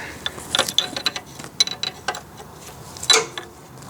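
A ratchet wrench turning a 17 mm bolt on the power steering gearbox of an R107 car. Bursts of close, bright ratcheting clicks come in uneven spurts with short gaps between them.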